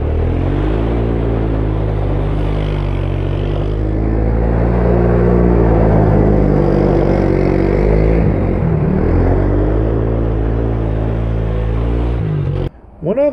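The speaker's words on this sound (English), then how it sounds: "two-wheel drive is fantastic when you have a project that's not quite working right and you need a quick donut" A Suzuki King Quad 300 4x4 ATV in two-wheel drive spins a donut, its engine droning steadily and loud with a rising and falling pitch as it circles, cutting off abruptly near the end.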